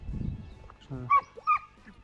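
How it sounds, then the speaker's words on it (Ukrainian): Dogs out on an early morning walk give two sharp close barks after some low shuffling and a brief whine, fairly faint overall. "Не гавкайте, ну."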